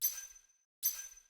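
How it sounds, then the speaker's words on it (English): Two short, bright, tinkly video game coin pickup chimes ring out, identical and less than a second apart, each fading quickly into silence. "Another good example is the coin pickup sound effect."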